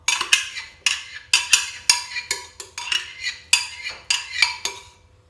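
Batter being mixed in a metal bowl for economical madeleines or cupcakes, a utensil striking and scraping the bowl in a fast series of bright, clattering knocks, close and fairly loud with no talking.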